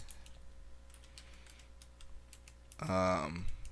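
Fingers typing code on a computer keyboard, a light scattered run of quiet clicks and taps, followed by a brief tonal chime near the end.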